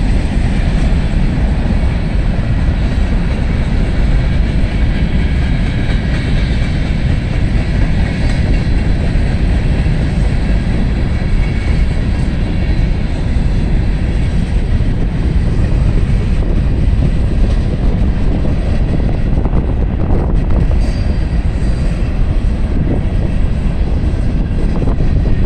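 Norfolk Southern freight trains rolling past on the Rathole line in Walton, Kentucky, a loud, dense, unbroken roar and rumble of wheels and cars running close by throughout, with no talking.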